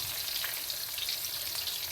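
Steady, dense sizzling of onion pakoras frying in hot oil, a constant crackly hiss with no voices.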